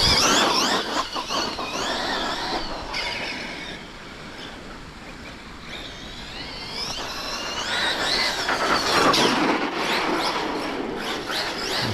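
A Hobao SSTE electric RC truggy drives hard and slides, with a continuous high whine of motor and drivetrain that rises and falls as it powers through the turn, close and loud.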